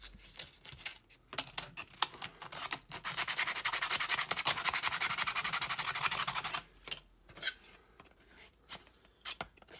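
Sandpaper rubs against a small part of a Sovereign of the Seas model ship, first in scattered light strokes, then a sustained fast back-and-forth run of several seconds, ending in a few more short passes, close by.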